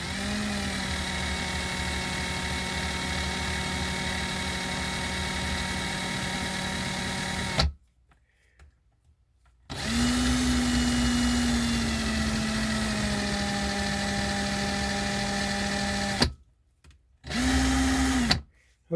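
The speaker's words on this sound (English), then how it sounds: "that is the 1976 Cadillac Eldorado convertible top power actuator, gearbox actuator" A 1976 Cadillac Eldorado convertible top gearbox actuator motor running on a bench, a steady whirring electric motor hum that stops, restarts in reverse, stops again and then briefly runs once more.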